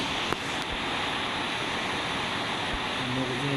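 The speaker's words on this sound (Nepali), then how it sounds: "पानी ठुलो पर्यो, पानी पर्दैछ अहिले।" Heavy rain pours down steadily, a dense unbroken hiss of water close by, with no voices over it.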